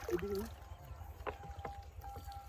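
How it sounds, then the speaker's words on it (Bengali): A rowboat moving on a river at Charchakundi, Debgram, Nadia: quiet water splashes and knocks from the boat, with a brief voice at the start. "এই নৌকাটাতে চড়বো"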